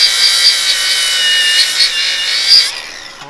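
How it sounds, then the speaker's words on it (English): Grinding down a differential cover on a Ford Explorer Sport Trac front end: a steady, high-pitched abrasive whine with small surges, close and loud, stopping abruptly near the end. "I can grind that diff cover down though."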